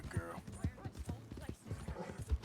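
Rhythmic clip-clop of horse hooves in Red Dead Redemption, steady mid-loud beats recurring roughly every half second, overlapped by talking throughout.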